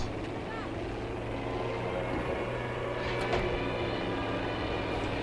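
A World War II-era propeller airplane in the shooter game Battlefield V gives a constant, loud engine drone throughout, with a few faint clicks and bursts over it.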